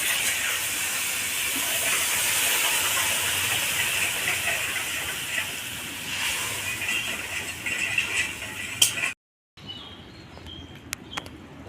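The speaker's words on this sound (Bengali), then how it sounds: "ঝোল ফুটে গেছে" Broth for a light koi fish curry boils in a pot as a steady, close bubbling hiss, then cuts abruptly to near quiet with a few faint clicks.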